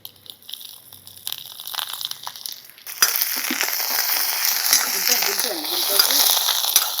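Quiet clinking, then a sudden loud sizzle as spices, dried red chillies and curry leaves hit hot oil for tempering, crackling steadily and close, with a few faint voice sounds underneath.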